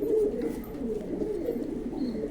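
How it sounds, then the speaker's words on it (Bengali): Young racing pigeons, including single males offered for sale, coo in low, continuous throaty murmurs that stay steady and close throughout, with no talking over them. "এটা একটা রেসার পায়রার বাচ্চা।"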